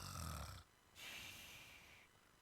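A voice imitating snoring during a church sermon: a short, rough, low snore-like rasp, then a breathy wheezing exhale after a brief pause, close to the microphone.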